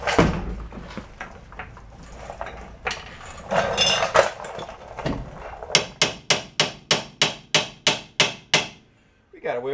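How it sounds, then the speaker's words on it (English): A truck axle is kicked hard in a repeated series of sharp metallic bangs near the end, after scattered clanks and knocks of leaf-spring repair work. "I'm gonna kick the axle so I can get it a little more straight."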